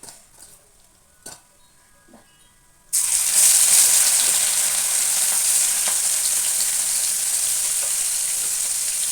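Beef pieces hit a hot pan after a quiet start with a few soft knocks, bursting into loud, sustained sizzling frying that carries on steadily to the end.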